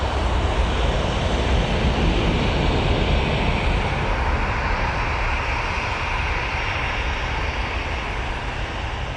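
A Lufthansa Airbus A320-200 bound for Frankfurt powers along at Manchester Airport, a loud, sustained jet roar, rushing and wind-like, heard alone without talk.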